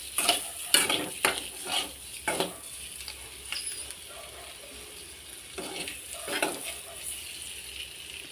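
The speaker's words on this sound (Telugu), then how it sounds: "ఈ విధంగా అయితే ఫ్రై కావాలి." Masala for an egg gravy curry frying in a pan, with a soft steady sizzle under repeated scrapes and clinks of a spoon stirring it.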